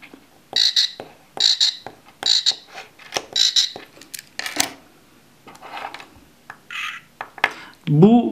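A frog keychain toy makes its sound in a quick run of four or five sharp, croaking clicks, loud and close, followed by a few softer clicks and a brief rattle at the end.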